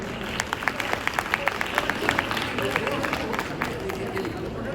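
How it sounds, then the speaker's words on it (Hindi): A workshop audience claps at an educational event, with distinct individual claps ringing out over murmuring and crowd chatter from a roomful of people; the clapping is moderately loud and fairly close. "जोर से तालियां"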